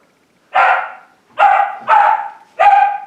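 Puppies let out four loud, close yapping barks in quick, uneven succession, each short and high-pitched, with silence between.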